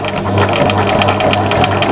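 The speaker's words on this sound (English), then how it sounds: "And you'll notice I'm only doing one row of stitching." A sewing machine stitches a single row of applique on a mushroom-house tea mat, giving a close, steady mechanical whir with a rapid rhythmic needle chatter.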